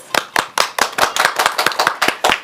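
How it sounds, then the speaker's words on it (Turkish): Brisk, steady hand clapping from a small group, sharp close claps repeating in a fast even rhythm with no talking. "Seni alkışlıyoruz."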